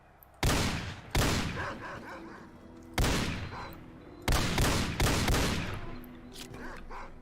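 Several loud individual gunshots sound in the S.T.A.L.K.E.R. Call of Pripyat video game, spaced irregularly and each trailing off into a ringing echo, over a faint background.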